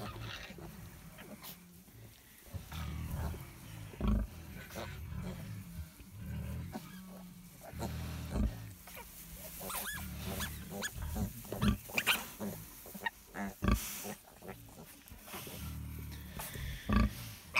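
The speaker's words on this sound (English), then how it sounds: "It's a good sized pig there." Large pig on a farm with newborn piglets, grunting and oinking in repeated close bursts, some louder snorts scattered throughout.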